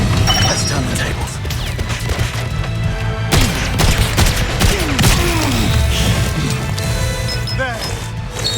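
Turret gunfire in the video game 007 First Light, a dense run of booms, crashes and mechanical clanks over a steady low rumble, continuous and loud throughout.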